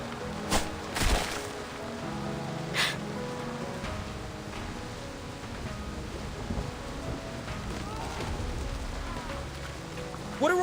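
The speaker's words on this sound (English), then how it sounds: "What kind of storm is this?" A rainstorm in the video game Reverse: 1999 hisses steadily beneath game music, with a few sharp crackling bursts early on and near the end, moderately loud throughout.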